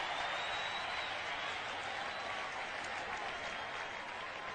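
Football stadium crowd roaring at a Packers game in Green Bay after a sack of the quarterback, a dense, distant wash of cheering and applause that holds steady throughout.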